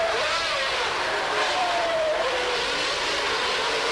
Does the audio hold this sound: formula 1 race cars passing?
yes